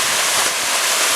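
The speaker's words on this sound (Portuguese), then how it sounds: "É de tirar o fôlego essa cachoeira aqui" Steady broadband roar of the waterfall at Estância Barão do Rio Branco in Tamarana, Paraná, close and fairly loud, a continuous rush of falling water with no voices over it.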